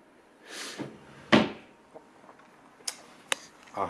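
Drawers of a chest of drawers slide and thump shut in a few separate bursts, with a louder knock near the start and lighter clicks and taps after, close by in a quiet room.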